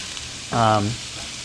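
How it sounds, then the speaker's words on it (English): Diced sweet white and purple onions sauté in a pan, a short burst of sizzling and stirring that swells for a moment over a soft steady frying hiss. "So I'm gonna saute these around a bit."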